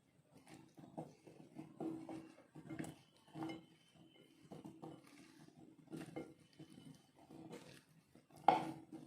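Cauliflower florets are tossed with masala in a bowl, giving soft, close, intermittent rustling and scraping bursts with a faint clink of a spoon near the end.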